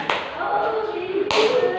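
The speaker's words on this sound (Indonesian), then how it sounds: "tepuk tangan untuk Angel" Classroom applause for a pupil: a short burst of clapping from the students, rising twice, with voices talking over it.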